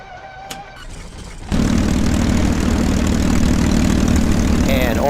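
A P-51D Mustang's cold piston engine in a flight simulator game cranks and catches, jumping into a loud, steady, rumbling idle that holds throughout.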